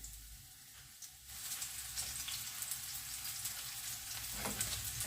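Oil sizzling steadily as mushrooms hit a hot frying pan, a dense crackling hiss that jumps up after a quiet second and continues throughout.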